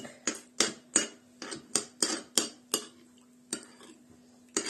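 A utensil knocks and clinks against a bowl while stirring a mayonnaise-dressed salad, in quick, uneven strokes, about a dozen sharp taps with short pauses, close and fairly quiet.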